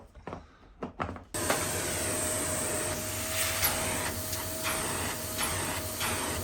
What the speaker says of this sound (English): So we're cleaning out another vacuum with a vacuum